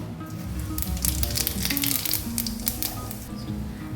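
Cumin seeds sizzle in hot oil left over from frying potatoes: a close, steady crackle with dense popping that holds evenly throughout, with no voices.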